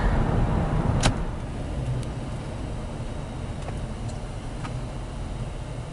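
A car rolling slowly into a gas station at Lake Ozark, Missouri, a steady low engine and road rumble heard from inside, with a sharp click near the start and a few faint ticks.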